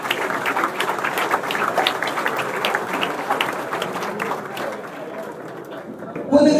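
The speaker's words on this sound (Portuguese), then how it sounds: "eu tive uma salva de palmas para eles" Applause from a crowd of diners fills an Anadia Futebol Clube 97th anniversary dinner, a steady wash of clapping mixed with chatter that eases slightly before a louder burst at the end.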